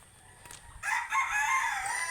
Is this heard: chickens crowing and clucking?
yes